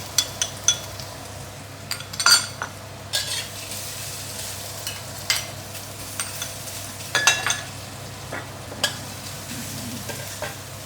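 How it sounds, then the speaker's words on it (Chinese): Sauce for yellow rice wine chicken is stir-fried in a pan, giving a soft, steady sizzle. Sharp scrapes and clinks of the utensil against the pan cut through at irregular moments. "我放这个去炒你看我现在下了"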